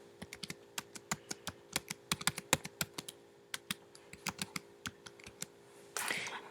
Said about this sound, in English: I'm going to type in my newsletter title